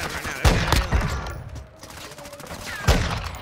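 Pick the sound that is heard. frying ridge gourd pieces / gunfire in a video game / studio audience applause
gunfire in a video game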